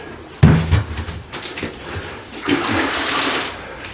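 Grout sponge rinsed in a bucket of water during shower tiling: a splashy plunge followed by sloshing and dripping water, close and fairly loud.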